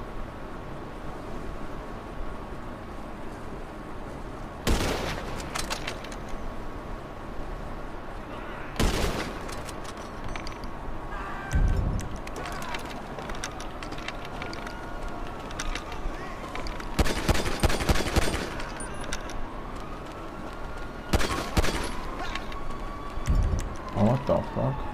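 Gunfire in Grand Theft Auto 5 during a fight at a military air force base, with several sharp loud bursts spread across the stretch over a steady background rumble.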